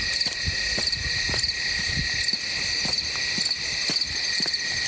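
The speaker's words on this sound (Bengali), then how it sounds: "ঝিঝি পোকার ডাকগুলো তীরের মতো কান বিচ্ছে" Dense crickets chirp continuously in a forest at night, a steady high shimmering drone with faint rhythmic pulses, close and alone with no other sounds.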